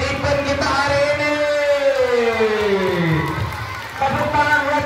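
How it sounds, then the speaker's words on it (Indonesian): Children at a school literacy and healthy-nutrition event make a loud, continuous crowd din of clapping and cheering, with voices shouting over it for several seconds. "anak-anak kita sekali lagi tepuk tangan buat event kita hari ini"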